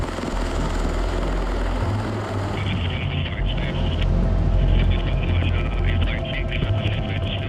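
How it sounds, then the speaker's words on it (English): A US Marine Corps MV-22 Osprey tiltrotor aircraft drones with a steady, heavy low-pitched rumble throughout. A brighter whine joins partway through and holds to the end. "Here, we board an MV-22 Osprey, which looks like a giant transformer."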